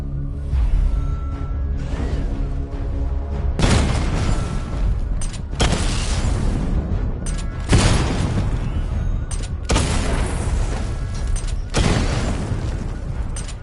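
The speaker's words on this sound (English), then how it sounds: "Destroy targets to charge up weapon energy and activate missile barrage." Missile barrage explosions in a PS4 video game hit targets in a series of five heavy booming blasts, each a loud burst that slowly decays before the next, with no talk.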